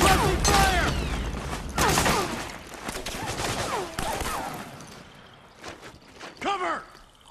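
Suppressing gunfire in the Metal Gear Solid 4 video game: repeated bursts of shots at close range, followed by quieter scattered firing. Voices shout over the gunfire.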